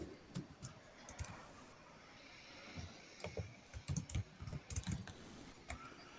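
Rapid keystrokes on a computer keyboard as a web address is typed into a new browser tab, with irregular bursts of close, crisp clicks separated by short pauses.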